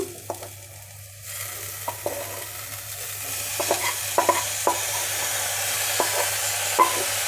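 Carrot, fresh coconut, onion and green chili fry in a pan, a soft sizzle steadily rising beneath scattered spoon taps and stirring scrapes, heard close with no voices.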